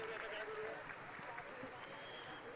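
A crowd at a youth interaction event applauds a panel in a faint, continuous, hissing wash of clapping that runs the whole time with little rise or fall, with talk mixed in.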